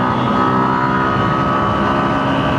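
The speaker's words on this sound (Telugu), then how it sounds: "Proper sport bike acceleration, in gear acceleration." A 2026 Suzuki Gixxer SF 155 sport motorcycle with a 155cc engine accelerates in gear, giving a loud, steady engine drone up close with no speech over it.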